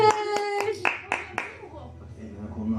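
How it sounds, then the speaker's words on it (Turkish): A few separate hand claps at home during a puzzle game with a small child, five or six sharp claps spaced unevenly within about a second and a half, mixed with a voice and adult talk. "Alkış."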